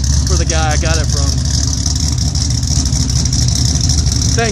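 A 2005 Mustang GT V8 fitted with a Comp Cams Mutha Thumpr cam and tuned to 412 rear-wheel horsepower, loping at a rough, choppy idle, loud and close, with someone talking over it.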